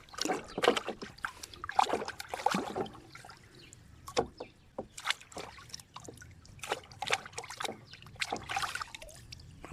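Sorted plant seeds are dropped and stirred into water, making close, irregular splashes and trickling drips with quiet gaps between them.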